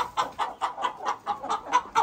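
A hen clucks in a steady series of about nine short, evenly spaced calls, close and fairly clear with no talking.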